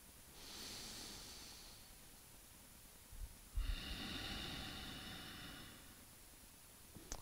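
Slow, controlled nasal breathing during a standing morning yoga routine, two long soft airy breaths, an inhale and then an exhale, close and quiet with no talking.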